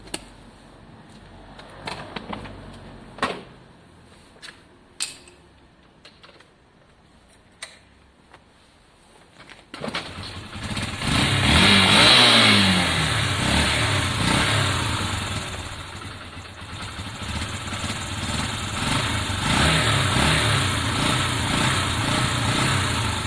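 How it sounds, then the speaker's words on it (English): Italjet Formula scooter engine kicked over with faint clicks and taps, then firing up into a loud buzzing two-stroke idle that climbs and settles into steady revving, close by with no talk. "Let me show you that the bike does start."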